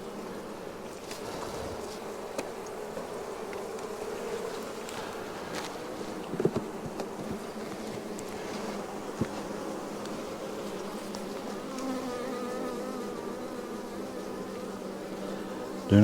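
Honey bees swarm around an opened beehive during an inspection, making a steady, dense buzzing drone that fills the air with a few faint knocks and handling sounds.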